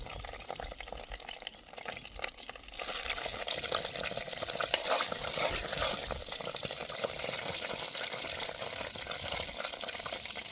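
Oil heating in a pan hisses and crackles softly at first, then swells into a louder, steadier sizzle that carries on close by with no talk.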